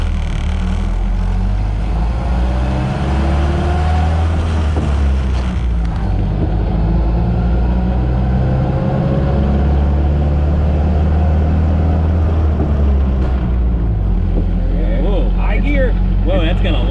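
Ford Model A garage-find engine running hard while driving, a loud steady drone with shifting revs and a noticeable drop in engine speed, with voices talking over it.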